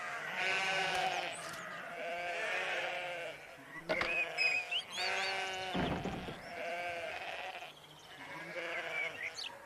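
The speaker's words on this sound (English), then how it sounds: "A field full of sheep." Several sheep bleat in a field, loud, close and repeated, their wavering calls overlapping one after another with no talk.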